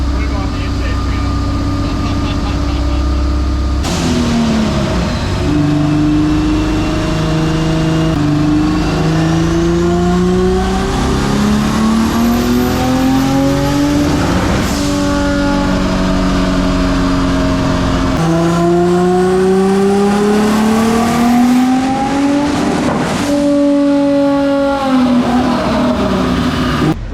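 A twin-engine MX3 running on a dyno roars loud and close, revving up in repeated long sweeps and dropping back between pulls, with voices faintly underneath.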